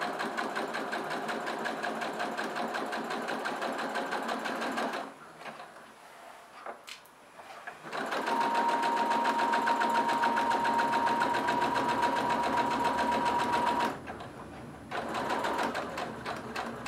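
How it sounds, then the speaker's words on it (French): A home sewing machine stitches fabric for a large bum bag, running in a steady close whir, pausing briefly while the needle is set and the fabric turned, then resuming a long even stitch before another short stop. "je rabaisse mon pied et c'est reparti, je couds."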